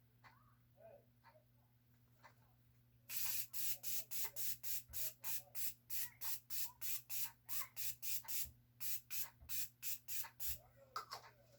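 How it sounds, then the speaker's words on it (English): A dissolving makeup mist is sprayed onto the face from a pump bottle, producing a quick run of about twenty short, crisp hissing spritzes in a steady rhythm over a quiet room, with one brief pause partway through. "Now on this side of the face, we're going to use the dissolving mist."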